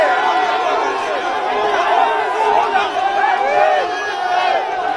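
A dense crowd in Lubumbashi erupts in cheers and shouts for the president, a continuous loud roar of many voices with overlapping yells and chatter, close and sustained without a break.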